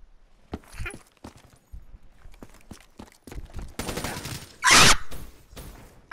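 Gunfire in Call of Duty: Black Ops III, scattered sharp shots then a loud dense burst near the end, mixed with footsteps and game noise.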